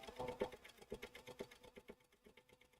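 A sewing machine set up for machine felting runs at close range in quick, even needle strokes that fade toward the end, quiet overall with no talking.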